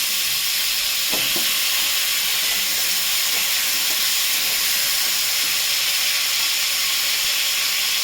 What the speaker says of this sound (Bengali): আলু দিয়ে দেবো, আলুটা একটু ভেজে নেব।